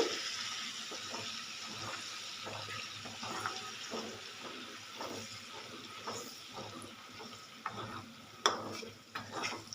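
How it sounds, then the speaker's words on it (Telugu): Prawn pickle masala frying in a pan: a quiet, continuous sizzle with rhythmic stirring scrapes throughout and a few louder clanks near the end. "ఇది బాగా పచ్చి వాసన పోయే వరకు వేయించుకోవాలి."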